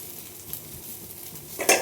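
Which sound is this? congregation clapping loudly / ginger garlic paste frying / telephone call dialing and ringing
ginger garlic paste frying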